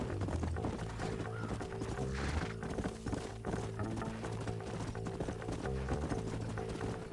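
Several horses trotting in the video game Red Dead Redemption, a steady rhythmic clip-clop of hooves that runs continuously and fairly close beneath a dense, constant layer of game music and ambience.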